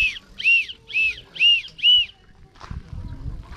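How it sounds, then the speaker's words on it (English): A toy whistle bought for children at a wooden drive-through restaurant in Slovakia is blown five times in an even rhythm, close and shrill, followed by faint rustling. "so I've got two whistles for my kids"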